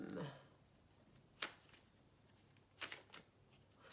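Tarot cards being shuffled by hand, a soft riffle at the start followed by a few brief sharp flicks and taps of the deck, quiet and close with no talking.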